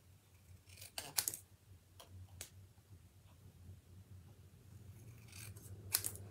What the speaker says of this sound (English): I'm going to trim this down all the way to the edge of the lettering